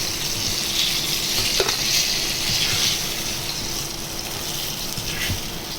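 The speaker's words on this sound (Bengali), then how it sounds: "বেগুন ভাজা হয়ে গেছে, তুলে নেব।" Sliced eggplant fries in a pan with a steady, bright sizzle and a constant hiss, and a few small clinks come through.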